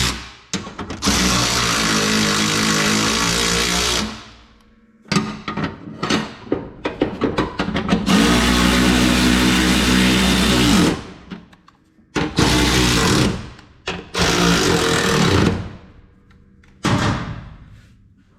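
Cub Cadet LTX 1042 lawn tractor engine running loudly in several separate bursts, each lasting a few seconds and then cutting out before starting again, with no talking.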